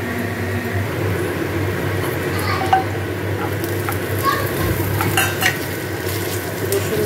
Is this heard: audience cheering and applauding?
no